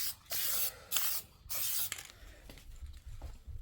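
Aerosol Plasti Dip spraying onto an Acura TL in three loud hissing bursts, each about half a second, followed by quieter rubbing and handling noises.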